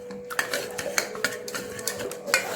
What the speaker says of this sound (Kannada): ಈ ಥರ ಬೆಳ್ಳುಳ್ಳಿ, ಈರುಳ್ಳಿ, ಬೇಳೆ ಎಲ್ಲ ಸ್ಮ್ಯಾಶ್ ಆಗಲಿ.